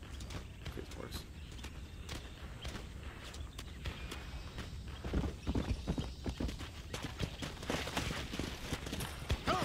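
Horse hooves clip-clop in a steady walking rhythm in the video game Red Dead Redemption, joined by scattered clatter and a voice talking over them.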